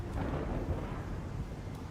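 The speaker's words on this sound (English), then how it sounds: "Just past Crete, it gets into a heavy storm." A heavy storm at sea roars as a dense, loud rumble of wind and thunder, a continuous low wash that fills the whole moment without any voices.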